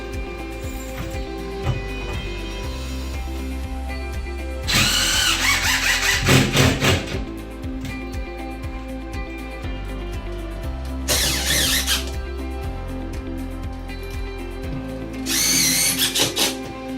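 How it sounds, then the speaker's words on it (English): A power drill drives screws into a drywall repair, with three loud bursts of whirring separated by quieter handling noise and a steady low background hum. "Now I'm going to add some screws to make sure it's nice and tight."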